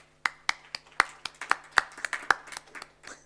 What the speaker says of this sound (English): Let's give a warm round of applause to a fabulous panel.